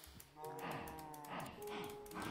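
Several overlapping cow moos from Minecraft, low drawn-out lowing calls following one another at moderate volume with no talk.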